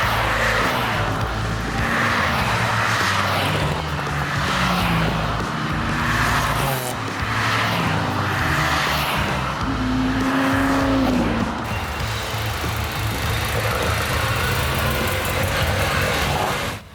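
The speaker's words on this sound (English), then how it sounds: "we finally see our cars head out for their first sighting laps of the 2026 racing season." Ex-Works MGB race cars heading out on sighting laps at Brands Hatch, engines droning loudly and steadily throughout with rising and falling revs as cars pass nearby, plus a brief higher whine near the middle.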